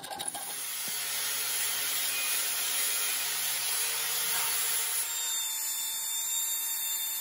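A power tool cuts off the protruding wedge on a replacement Stihl axe handle, a steady high-pitched whine running for about five seconds before the pitch shifts as the cut finishes, close and continuous.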